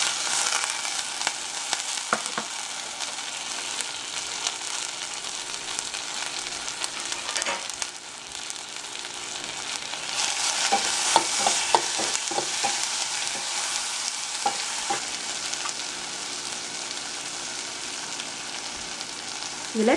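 Steady sizzling of tomato frying in a pan for garlic rasam, with occasional clicks and stirring scrapes, loud and close throughout.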